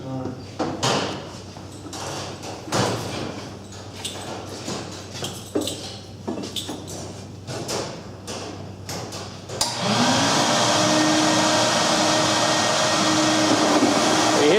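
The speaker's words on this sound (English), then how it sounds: "why don't we put the gun in and punch some tubes" Clattering knocks and bumps under speech, then a loud, steady whirring drone of a motorized brush cleaning firetube boiler tubes starts and runs continuously.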